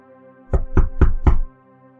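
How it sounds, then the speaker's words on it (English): Four firm, evenly spaced knocks on a hotel room door in an audio drama, close and clear over a faint steady background hum. "He knocked."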